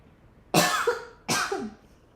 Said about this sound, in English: I didn't mean to cough in your ear.